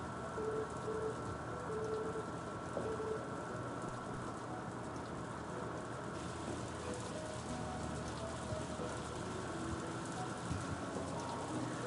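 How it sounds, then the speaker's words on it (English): Steady rain falls on surfaces outdoors, a constant close patter with pigeons or doves cooing faintly in the background. "So it's raining."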